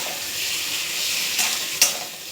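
Masala being stir-fried in a pan for an egg curry, with a loud, steady, close sizzle broken by two quick scraping stir strokes near the end.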